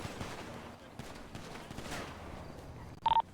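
Scattered gunshots ring out in GTA V NoPixel roleplay, a few sharp distant pops followed by a quick close burst near the end, mixed with faint voices.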